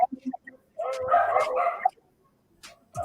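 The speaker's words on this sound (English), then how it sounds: "Well, the dogs are calling." A short burst of dog barking and yipping, fairly close, with a few faint sounds before and after.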